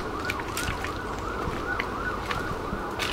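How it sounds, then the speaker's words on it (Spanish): Several emergency vehicle sirens wail steadily through a street, their rising and falling tones overlapping continuously over a dense background of traffic and city noise, with no one speaking. "¿Por qué de repente hay tantas sirenas y tantas cosas?"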